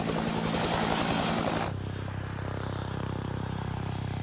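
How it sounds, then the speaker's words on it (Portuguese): Steady, heavy rotor thumping of a helicopter, main rotor wake striking the tail rotor wake, with a constant engine whine, loud for a moment and then settling into a slightly quieter drone. "A primeira coisa que sempre notamos num helicóptero é o som da esteira do rotor principal"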